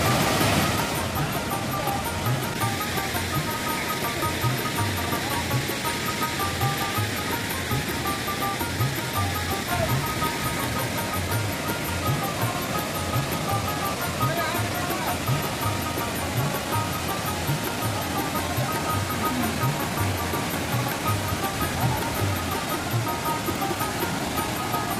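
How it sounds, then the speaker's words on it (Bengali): Hundru waterfall near Ranchi, Jharkhand, water falling from a great height down a hillside, a dense continuous roar that stays steady and loud throughout with no talk. "এটা সবচেয়ে উঁচু থেকে জলটা আসছে।"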